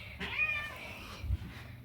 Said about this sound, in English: So he's been a stray cat for the past year.